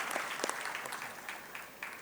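Light, distant applause from a college annual function audience in Navi Mumbai, a soft scattered clapping that stays faint throughout.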